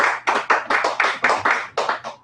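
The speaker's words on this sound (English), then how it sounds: "round of applause, please" A single pair of hands claps steadily about ten times in an even rhythm, close and fairly loud.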